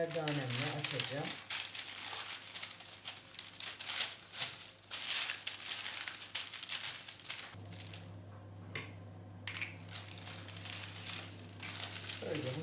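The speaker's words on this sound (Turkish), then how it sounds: "Şimdi diğer yağlı kağıdımı da üzerine alıyorum ve merdanemle açacağım." Baking paper crinkles and rustles over dough while it is rolled out with a rolling pin, giving steady crackling and scraping close up for several seconds. Someone talks in Turkish over part of it.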